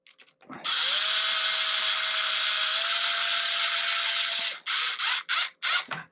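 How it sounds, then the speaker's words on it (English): A power drill whirs steadily for several seconds at close range, then fires in a few short bursts as a screw is driven home. "And then you can go in with your drill"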